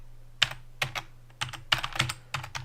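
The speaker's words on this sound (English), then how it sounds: "sorry if it's very heavy typing." Heavy typing on a computer keyboard, close and crisp, with irregular bursts of hard keystrokes separated by short pauses over a faint low hum, and no talking.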